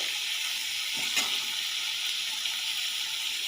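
Spices frying in a pan with chili and a pinch of turmeric, a steady close hiss of oil with a brief scrape of stirring partway through, no voices.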